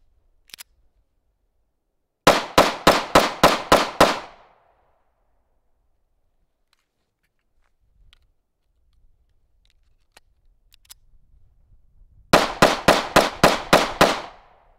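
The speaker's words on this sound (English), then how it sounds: "These are the first shots fired through this brand new handgun." Two bursts of gunfire from a new Remington R51 handgun on a live-fire range, each a quick string of about six sharp, loud shots. A long quiet stretch separates the two strings.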